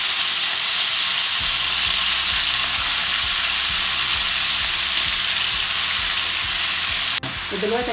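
Ground meat frying in a little oil with a loud, continuous sizzle and hiss, while a spoon stirs it in steady, regular scrapes close by.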